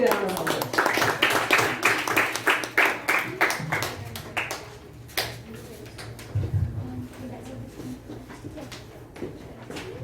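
Scattered, rhythmic clapping from a small audience greets a youth leader at a leadership event, strongest at the start and thinning out, with a voice talking over the later part.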